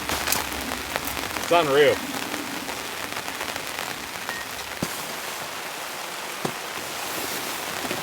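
Heavy rain drums steadily on a tent pitched under a small 3 by 3 metre tarp, a dense continuous patter with occasional sharper drops, while a person speaks briefly early on.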